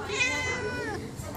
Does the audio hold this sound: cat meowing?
yes